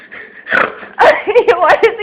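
A dog snorting in short, sharp bursts, close and loud, with a few quick nasal snorts in rapid succession.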